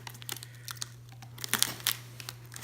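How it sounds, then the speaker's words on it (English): A knife slicing through tape and cardboard on the box of an HP 23es monitor being unboxed, giving short scratchy scrapes and crinkles that build toward a few sharper cuts near the end, close and quiet with no talking. "I have my knife here, and I'm just gonna cut this."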